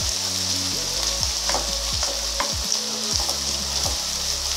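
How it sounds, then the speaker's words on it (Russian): Steady, dense sizzle of garlic frying in a pan, with soft scraping knocks from stirring every second or so. "Поэтому чеснок жарим недолго. Постоянно вот так перемешивая, помешивая."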